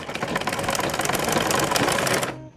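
A sewing machine stitches a cloth face mask, running in one steady, close, fairly loud burst that stops sharply near the end.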